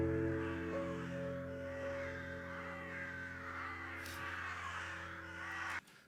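Crows caw in an anime scene, a steady layered chorus of calls running over sustained background music, moderately loud throughout and cutting off abruptly near the end.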